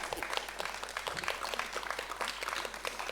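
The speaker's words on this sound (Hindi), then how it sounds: "सभी लोग जोरदार तालियां बजाएं" An audience at a Su-dhara community gathering gives sustained, lively applause that rises and falls across the moment, with dense overlapping claps and no pause.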